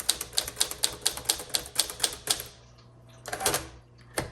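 Keys clack on a 1954 Smith Corona Silent-Super typewriter in a quick, even run of sharp strikes, then a pause and a brief final burst of keystrokes, close and clear with no talking.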